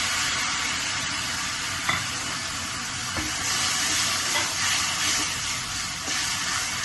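Tomato paste and chillies fry in a pan, a steady broad sizzle and hiss held at a fairly loud level, with a few faint clinks and stirring sounds, and no one speaking.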